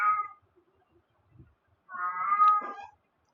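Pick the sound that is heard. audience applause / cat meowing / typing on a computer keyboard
cat meowing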